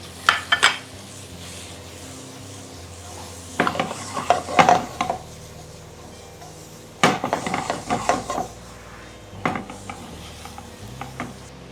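Chopped onion goes into a pan for chicken kondattam and is stirred with ginger and garlic. A spoon scrapes and clatters against the pan in irregular bursts over a faint, steady sizzle.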